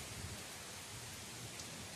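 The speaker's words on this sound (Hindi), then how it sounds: "दोस्तों फाइनली अभी बारिश खूब तेज हो गया है, देख सकते हैं आंधी भी बह रहा है और बारिश भी तेज हो गया है।" Heavy rain driven by strong wind pours down over open farmland, a dense, loud, steady rushing roar with no pauses.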